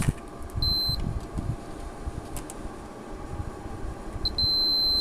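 A continuity tester checks the AC cord of a 1951 Revere T-100 reel-to-reel recorder, giving two short high beeps, one early and one near the end, over a steady low hum of background noise.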